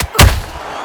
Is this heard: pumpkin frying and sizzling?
no